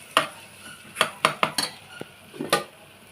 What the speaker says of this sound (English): again I am going to fry all these ingredients very well